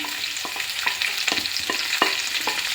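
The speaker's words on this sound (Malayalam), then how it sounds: "ഇതിലോട്ട് നമുക്ക് സവാള ഇട്ടു ഇട്ടിട്ട് നന്നായിട്ട് വഴറ്റണം" Sliced onions sauté in a pan for a breadfruit curry, giving a constant close sizzle broken by regular scraping strokes of a spoon stirring them, with no voices.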